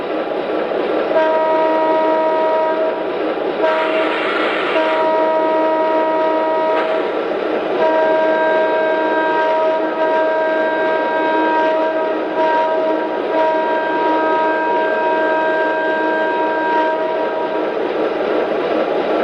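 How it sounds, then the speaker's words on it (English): A steady, sustained diesel-style horn from an MTH Lima-Hamilton LT-2500 transfer diesel model train blares in long, repeated blasts over a constant rumbling engine hum, loud and close throughout. "Okay, here's the horn."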